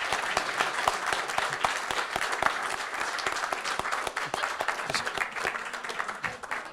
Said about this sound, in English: Round of applause for the people who turn up.